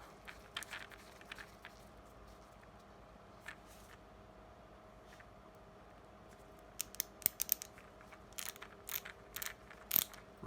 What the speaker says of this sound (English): Ratcheting action is pretty typical.